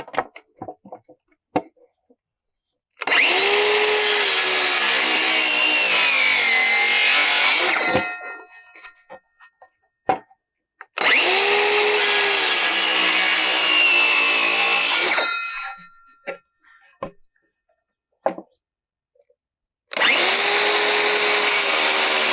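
A power saw cuts a wooden stake to a point in three loud, close bursts of about five seconds each, separated by near silence broken only by a few light knocks and handling sounds.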